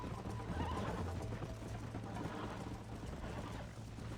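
Horses in Red Dead Redemption galloping with rapid clip-clop hoofbeats and a whinny, steady and fairly close throughout a brisk ride.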